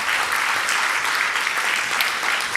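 Steady, dense applause from an audience at a startup accelerator showcase, loud and continuous for the whole stretch with no break.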